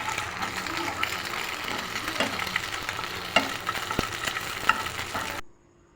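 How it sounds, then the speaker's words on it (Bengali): An egg fries in oil in a pan with a constant, close sizzle and occasional stirring scrapes before the sound cuts off abruptly. "তারপরে ডিমটা ভেজে ছোট ছোট টুকরো করে নিচ্ছি"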